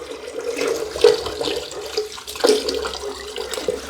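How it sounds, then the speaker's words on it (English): Water gurgles and rushes down a bathroom floor drain being cleared of debris, a steady close trickle with small splashy surges and no talking. "I'm just draining that through first so I can actually see what's in there."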